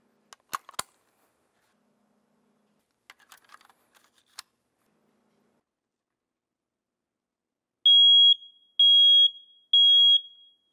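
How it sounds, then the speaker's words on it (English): A household smoke detector being tested during a fire-safety demonstration, sounding three loud, evenly spaced high-pitched beeps near the end, after a few faint clicks and handling taps. "we do need to put the batteries in our smoke detector"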